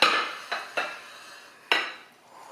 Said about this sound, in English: I'll go ahead and slice this cornbread